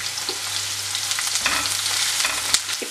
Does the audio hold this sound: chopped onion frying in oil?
yes